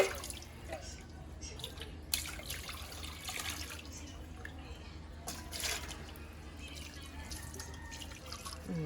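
Tap water running into a sink while pots and dishes are washed, a faint steady trickle and splash with occasional clinks, and a person talks quietly over it.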